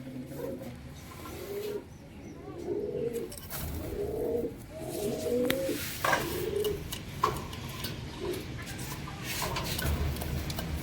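Several pigeons, including an aggressive female, coo in a run of rolling, repeated calls, fairly close, followed by quieter rustling and scattered clicks.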